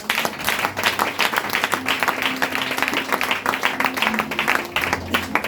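Church congregation applauding and acclaiming Jesus Christ during a French-language service, dense continuous clapping throughout, with a faint voice and low tones underneath.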